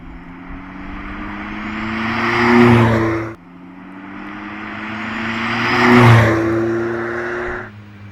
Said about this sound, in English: It literally sounds like a 4-pot turbo.